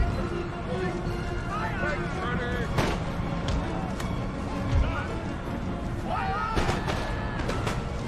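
Cannon artillery fire in the Empire: Total War video game comes as scattered booming volleys over dense battle ambience, a few sharper cracks standing out, while someone talks over the action.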